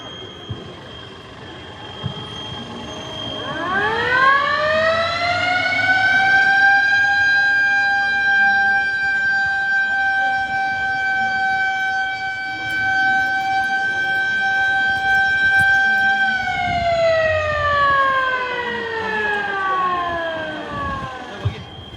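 A civil defense all-clear siren during a mock drill wails steadily, rising to a long sustained tone and then slowly falling away, loud and continuous throughout.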